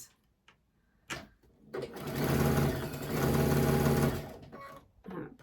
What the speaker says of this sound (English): I am going to come across here and sew this again